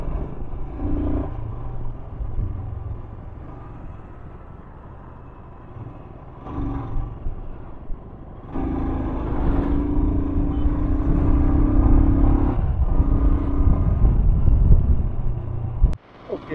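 A car drives along a ghat road near Malshej Ghat, a steady low engine and road rumble with wind buffeting the microphone, growing louder as it speeds up.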